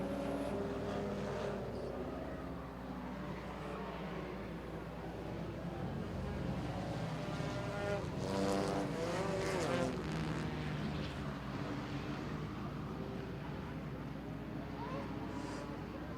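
Race cars lapping in a 100-lap enduro at Lancaster Motorplex, a distant, continuous engine roar that swells as cars pass, with an announcer talking over it.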